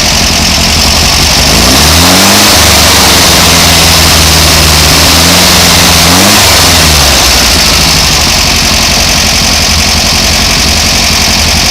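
A Volkswagen 2-liter engine runs on a test stand, loud and close, settling into a steady idle before two distinct rising-and-falling revs, then dropping back to a rough idle.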